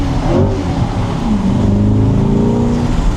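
A Chevrolet C8 Corvette Z51 engine, in Z mode, revs and pulls hard, with a loud, steady, close-up roar whose pitch climbs as it accelerates and keeps building throughout.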